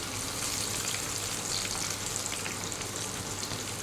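Potatoes for a chicken curry fry steadily in a pan of oil with a dense, continuous sizzle and faint crackles, close and even throughout, with no talking.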